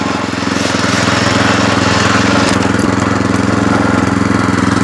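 A Loncin LC-1200 walk-behind tractor engine runs close by, a loud, steady, rapidly pulsing chug that holds level for the whole stretch.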